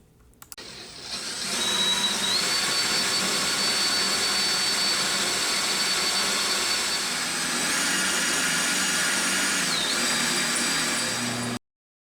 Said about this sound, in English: I'll drill the holes through the lip on the backboard